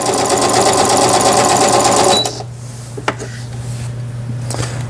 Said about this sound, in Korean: 지금 4mm까지 났더니 바느질 간격이 이렇게 넓게 나왔네요.